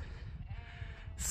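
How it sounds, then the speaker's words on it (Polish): A large flock of sheep bleats in open country in Kyrgyzstan, several overlapping bleats rising faintly and at a distance over low rumbling background noise. "A oto stado baranów."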